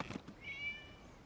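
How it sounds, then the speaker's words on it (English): Cat meowing in the Genshin Impact video game, a single faint, drawn-out meow after a brief soft rustle, heard alone without talking. "It was just a cat."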